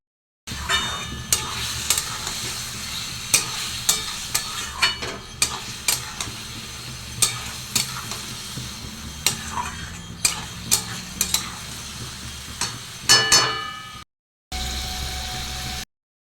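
Mushroom curry masala sizzling in oil in a pan, stirred with a metal utensil: a steady frying hiss under repeated sharp scraping clicks of the spoon against the pan, close and fairly loud, with a brief pause near the end.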